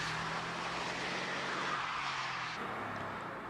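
A 2002 hillclimb race car at Prescott, heard as a steady, moderately distant engine roar against a broad wash of noise, easing slightly near the end.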